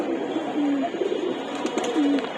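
A racing pigeon, a dark-throated bird, gives low rolling coos close up, with a couple of distinct drawn-out calls over a soft background murmur.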